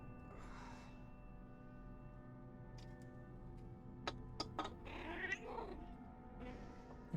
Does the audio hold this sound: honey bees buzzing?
no